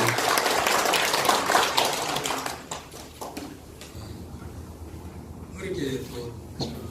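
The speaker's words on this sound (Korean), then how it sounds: "큰 박수 좀 부탁드립니다" Applause at a forestry cooperative's general delegates' meeting during a scholarship presentation: dense clapping fills the first few seconds, then fades to scattered claps under room noise and a speaking voice.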